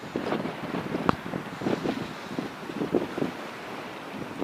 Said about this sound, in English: Very strong wind here.